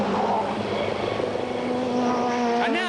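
1989 British Touring Car Championship touring cars race flat out at Silverstone toward Abbey and Bridge corners. A loud, steady engine roar holds throughout, and near the end a passing car's pitch sweeps upward.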